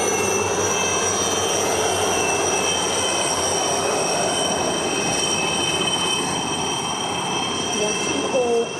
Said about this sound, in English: Watching all as 40 helicopters execute this synchronized tribute, a moment of sheer pride and honor.